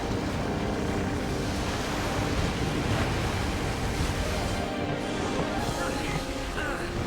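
Big ocean waves in Final Fantasy X roll and roar as a dense, steady wash of surf with a windy rush, loud and unbroken for several seconds.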